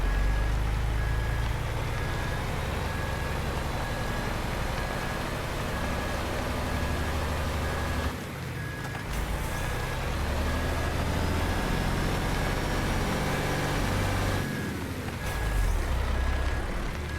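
A heavy truck in a driving simulator game reverses with a continuous engine drone, regular reversing beeps and brief air-brake hisses, all loud and steady with no talk.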